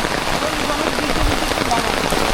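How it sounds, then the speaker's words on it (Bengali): Heavy rain pours steadily at a large fish market in Hosenpur, a dense, continuous wash of drops drumming on surfaces, loud and close throughout with a faint low rumble underneath. "বৃষ্টি লাগে সবাই দোকানে আশ্রয় নিছে যারা আছে সবাই"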